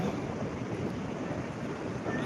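Sea waves on the beach at Divegar, a steady broadband wash of surf mixed with wind buffeting the microphone, continuous and fairly loud with no talking.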